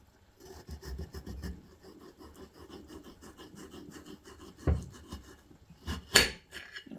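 A knife slices through a potato in quick, repeated scraping strokes against a cutting surface, faint and close, with two sharper knocks toward the end.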